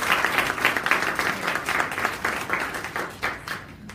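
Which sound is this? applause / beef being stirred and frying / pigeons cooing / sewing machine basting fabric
applause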